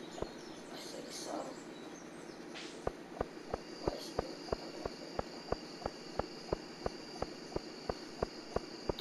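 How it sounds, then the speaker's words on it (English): Crickets chirp through a night scene in the Stardew Valley video game as a faint, steady high trill, overlaid by a regular series of soft footstep-like clicks. "Those crickets."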